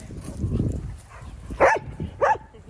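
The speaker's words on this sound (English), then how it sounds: "Easy with the puppy." A puppy makes two short yelping barks close by outdoors in a yard, following some rustling and low handling noise.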